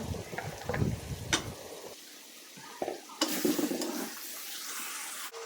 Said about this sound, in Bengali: এখন চাপা শুটকি আর কাঁঠালের বিচি দিয়ে কিছুক্ষণ কষিয়ে নিব